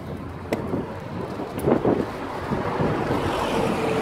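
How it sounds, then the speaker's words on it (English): Strong wind buffets the microphone outdoors near a bridge, a continuous rough rumble with a few louder gusts and faint knocks, no voices. "It's so windy, man."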